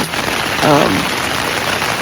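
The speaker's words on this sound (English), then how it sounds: "It wasn't supposed to be raining, but guess what? It's raining." Rain falls steadily during a hike on the Pacific Crest Trail near the Knife's Edge, a dense, close hiss of drops on the surface all around, loud and unbroken for two seconds.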